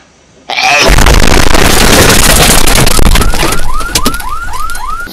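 A loud explosion bursts in suddenly and roars on as a sustained, close blast, then fades into a series of rising, chirping electronic tones.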